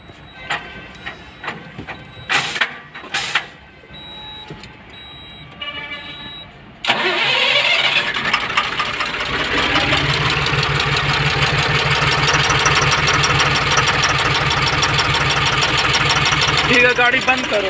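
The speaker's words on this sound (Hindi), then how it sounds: "गाड़ी स्टार्ट करो" A Tata BS4 truck diesel with an injector and ECU fault cranks and fires about halfway through after clicks and voices, then settles into a loud, steady rumbling idle that continues to the end.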